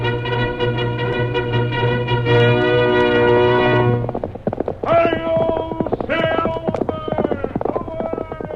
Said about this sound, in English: Fiery horse with a speed of light, a cloud of dust, and a hearty hi-yo Silver, the Lone Ranger